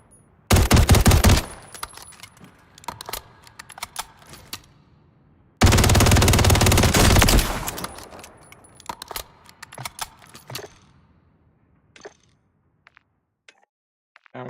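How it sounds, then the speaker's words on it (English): Bursts of submachine gun fire in the action game Path of Exile, two loud sustained volleys of rapid shots separated by quieter clicks, rattles and scattered effects, with no talking. "Even stock this fucking SMG"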